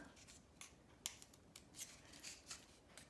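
A pair of scissors being handled and snipped during a paper craft, giving a few brief, faint metallic clicks and snips over a quiet background.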